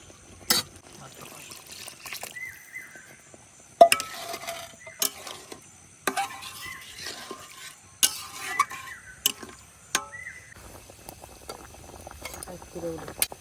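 In a rural home kitchen, broth goes into a pot of simmering pointed gourd dolma stuffed with pangas fish, with bubbling, soft sizzling and sharp clinks of a utensil scraping and stirring at irregular intervals.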